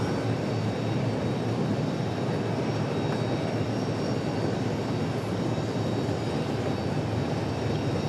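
A Delta airliner departing Raleigh-Durham airport for Atlanta gives a steady, broad jet engine roar that holds loud and constant throughout, with no voices.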